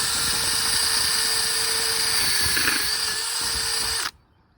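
A metal brush scrubs a Bundt wheel from a 1982 Mercedes R107 380SL, giving a steady, close whirring grind with a slight tonal hum. The sound lasts about four seconds, then stops abruptly into near silence.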